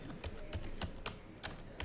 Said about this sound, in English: We're typing your name in.